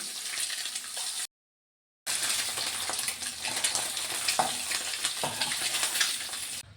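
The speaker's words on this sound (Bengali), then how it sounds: "এখন আমি ডিম কটা না একটু হালকা করে ফ্রাই করে নিচ্ছি, একটু হলদি আর নুন মাখিয়ে নিয়েছি" Eggs coated with turmeric and salt frying lightly in hot oil, a close, steady sizzle with crackles and occasional stirring scrapes, broken by a short silent gap.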